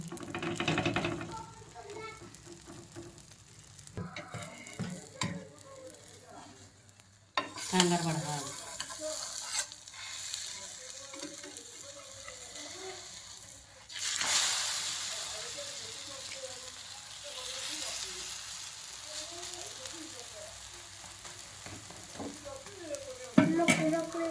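Onions frying in a pan give a steady, close sizzling hiss, with stirring scrapes and a couple of louder surges. A voice is faintly audible underneath.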